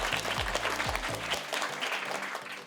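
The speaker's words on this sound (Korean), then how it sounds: "두 번째 스타패스 합격자 우리 임진규 선수에게 박수 부탁드립니다" An audience applauds a second StarPass qualifier, player Lim Jin-gyu, at a tryout announcement event. The clapping is dense and steady throughout, with musical stings and low tones underneath during the first half.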